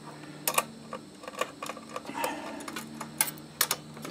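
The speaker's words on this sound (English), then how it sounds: "We got to uncover the torque converter." Small hand tools click and tap against the plastic torque converter cover of a Predator 212 mini bike as it is uncovered, giving a series of sharp, close ticks and clacks spread unevenly over a few seconds with a low engine-like hum beneath.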